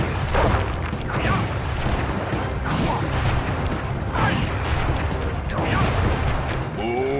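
Heavy booming attack explosions in the video game Sly Cooper and the Thievius Raccoonus, loud and nearly continuous, with rumbling bursts swelling about once a second and a brief voice-like tone near the end.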